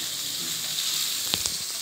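Meat fries in oil in a pan, giving a steady, close hiss and crackle with a couple of sharper pops near the end.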